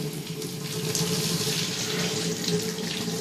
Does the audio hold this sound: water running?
yes